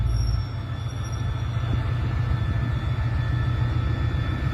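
An express train runs through Ayutthaya railway station in Thailand, a loud steady low rumble of rolling wagons close by with a faint high wheel squeal above it, continuous throughout.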